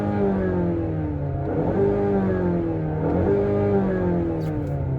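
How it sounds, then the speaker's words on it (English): A 2025 Mazda CX-5 engine revs while the vehicle is parked, a steady engine drone that climbs in pitch twice in smooth rises and falls, heard close and clear with no talking. "I'm just revving it. It sounds good."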